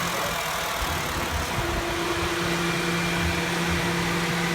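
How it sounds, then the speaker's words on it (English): A car engine idles steadily after an oil change, a constant close mechanical hum with a faint whine running unchanged throughout, no voices. "Alright, once you start the engine up,"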